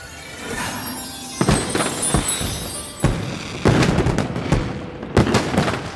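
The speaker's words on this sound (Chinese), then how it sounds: "再为我放一次烟火。" Fireworks going off in a rapid series of sharp bangs and crackling bursts, several loud pops spaced irregularly over a continuous fizzing, crackling background.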